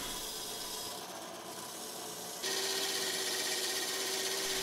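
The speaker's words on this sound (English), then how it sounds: "so I had to go back to the small bandsaw" A small bandsaw cuts through wood with a steady, close whirring rasp that grows louder and brighter partway through, holding a faint high whine to the end.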